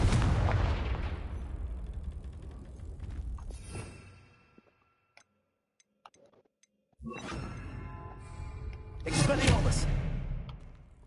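Confringo fire-blast spell in Hogwarts Legacy: a booming fiery blast that rolls off over several seconds, a near-silent gap, then more crackling bursts and another loud impact, with voices over the effects.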